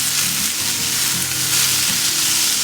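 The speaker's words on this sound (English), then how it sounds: "And finally, you add your onions. Just give it a little stir once in a while." Onions fry in a pan, giving a steady close hiss and crackle that runs without pause, with faint stirring beneath.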